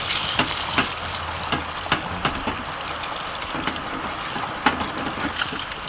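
Egg masala roasting in a pan makes a continuous loud frying sizzle, broken by regular scraping and tapping from a spatula stirring at a steady pace, with no voices.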